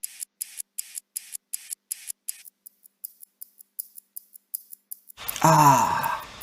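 Processed wristwatch ticking: a fast, even series of crisp high ticks runs for about five seconds, then a loud swelling burst of processed tone takes over.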